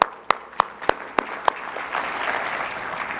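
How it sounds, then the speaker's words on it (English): Congregation applauding themselves at a church service: a few sharp isolated claps at first, then building into steady, full applause from the crowd. "would you give yourself an applause today for being here?"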